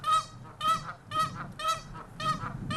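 Wild geese honk repeatedly at Gateway Island, five loud overlapping calls in a steady rhythm with a low rumble of other birds underneath and no voices.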